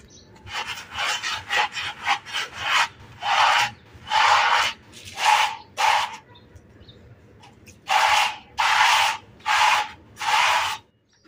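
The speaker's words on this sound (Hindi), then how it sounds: "देखिए कि कारपेट को रगड़ रगड़ के और बाल और गंदगी देखिए कि कैसे फेंकती जा रही हूँ साइड में" A carpet rubbed hard by hand to work out hair and dirt, giving about a dozen loud, rasping scrubbing bursts in uneven bunches with short pauses between them, close up.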